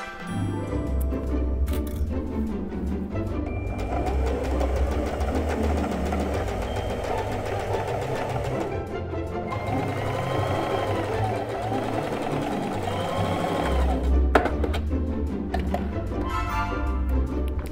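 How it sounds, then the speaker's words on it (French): A sewing machine stitches steadily over a basted seam on a Butterick 6837 pyjama pants pattern, a continuous mechanical whir with a ticking pulse filling the whole span at moderate loudness. "puis juste passer par-dessus mon faufilage avec la machine à coudre"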